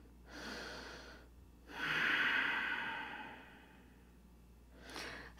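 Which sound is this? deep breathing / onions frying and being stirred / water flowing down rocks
deep breathing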